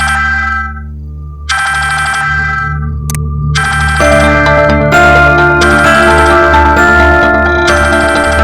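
A loud electronic ringtone plays in repeating bursts with brief gaps, bright tinkling tones over a steady low hum.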